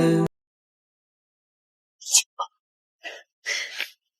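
A single sneeze with a sharp breathy burst and short catch, preceded by a brief cut-off voice, then followed by a few quick breathy exhalations in otherwise near silence.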